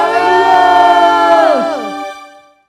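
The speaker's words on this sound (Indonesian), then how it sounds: "Sorakan haleluya." A church congregation shouts hallelujah together in one loud, sustained, pitched cry that glides downward and fades out over a couple of seconds.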